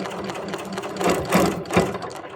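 A sewing machine or serger stitches quilted string blocks in short, close bursts, with brief pauses and restarts as the fabric is repositioned; no speech.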